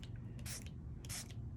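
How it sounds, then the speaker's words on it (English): A mist spray bottle spritzing water onto a watercolor painting, two quick, soft hissing pumps about half a second apart, each a brief breathy burst, close and quiet with no talking. "I'm going to get my mist spray it off to the side"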